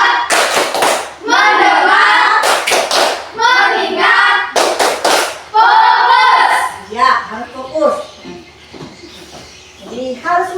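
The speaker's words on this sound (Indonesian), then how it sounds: "Nah, sekarang tepuk fokus." Classroom students do a rhythmic focus clapping routine, sharp clustered claps in patterned bursts mixed with children's chanting voices, loud and close.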